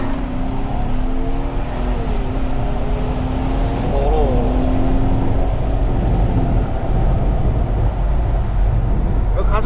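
A Lincoln Aviator SUV accelerates steadily, its engine note rising in a loud, continuous drone heard from inside the cabin.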